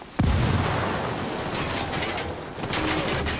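A grenade blast in a military shooter game (Ghost Recon Wildlands or PUBG) hits with a sudden loud boom, then a dense rumbling wash of gunfire and battle noise continues steadily to the end.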